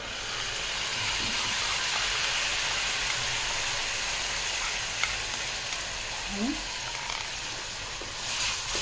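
Continuous sizzling and frying hiss of tomato puree in melted butter in a pan, steady throughout, with faint stirring sounds and a short muffled voice briefly underneath.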